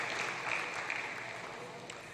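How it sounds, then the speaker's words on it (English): Faint, steady applause from the audience at a 2022 school football prize-giving ceremony, a dense even patter that holds for the whole stretch with no voices over it. "Let's give him a round of applause"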